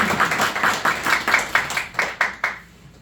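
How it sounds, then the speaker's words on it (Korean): A burst of clapping from an audience at a civic forum, sharp rhythmic claps repeating steadily for a few seconds before fading out. "큰 박수 한번 부탁드릴게요."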